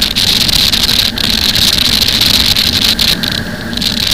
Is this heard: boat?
yes